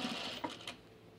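A Juki 8700-7 sewing machine makes a short, quiet burst of stitching while a dress is sewn, a faint mechanical whir with a couple of small clicks, heard alone.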